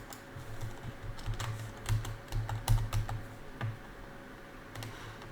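Keys clatter on a computer keyboard in quick irregular bursts, a close run of clicks that speeds up then thins out into scattered taps, with no one talking.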